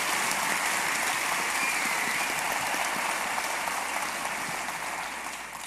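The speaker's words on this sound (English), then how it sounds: "giving a round of applause for the RightsCon team" Large-audience applause for the RightsCon team at the Costa Rica opening ceremony, a sustained dense roar of clapping that fades slightly toward the end.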